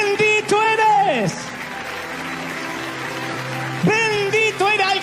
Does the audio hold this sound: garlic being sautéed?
no